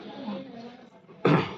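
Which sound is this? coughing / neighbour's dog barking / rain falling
coughing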